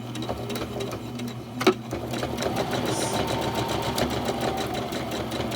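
Sewing machine back stitching a Christmas stocking, a close steady mechanical whir with rapid needle chatter, a brief thump early on, then continuous running stitches at even speed, no speech.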